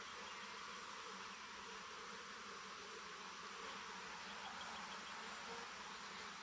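Honeybees swarm around a beehive at a beekeepers' outing on a sunny day, a dense, continuous buzzing hum, steady and fairly faint, with no talk over it.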